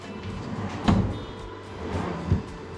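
A drawer on drawer slides in a DIY off-road vehicle drawer unit rolls and stops twice, each run ending in a soft knock, close and fairly loud with a low rumbling glide in between.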